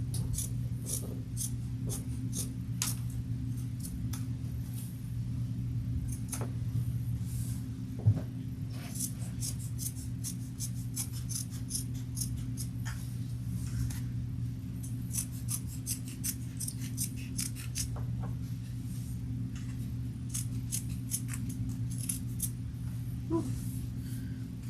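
Scissors trimming black fabric close to a seam, a long series of crisp snipping clicks in irregular bursts, near and fairly quiet, with no talk.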